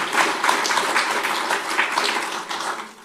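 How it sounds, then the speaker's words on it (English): Audience applause during a live channeling gathering, a steady wash of clapping from a room of people that holds for about three seconds and fades slightly at the end. "let's just give a set of applause to David, please"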